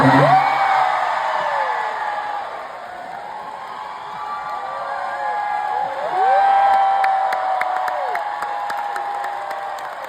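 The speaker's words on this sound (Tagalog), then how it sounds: "Baka naman pwede maulit yung sigawan." A concert audience shouts, whoops and cheers throughout, with individual high yells rising above the sustained crowd roar and a brief burst of clapping near the end; the crowd noise stays loud and continuous.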